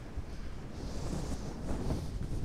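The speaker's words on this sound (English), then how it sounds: "the winds are gusting at 25 miles an hour" Outdoors, steady wind buffets the microphone with a continuous low rumbling roar that swells and eases in gusts, and no one talks.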